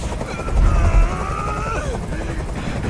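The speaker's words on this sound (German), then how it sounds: "Dieser Helikopter soll verschwinden." A helicopter's rotor in the video game Detroit: Become Human throbs and drones steadily throughout, with a heavier low rumble early on and a busy, noisy mix around it.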